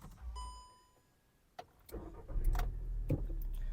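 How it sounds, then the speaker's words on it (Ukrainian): A Skoda Octavia 1.6 MPI petrol engine cranks and catches after a few electronic chimes, then settles into a steady low idle rumble without fluctuating revs, recorded close and fairly quiet. "Двигун запускається чудово."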